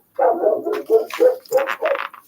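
Dogs outside bark excitedly in a steady run of about eight close, loud barks, mixed with higher yips toward the end.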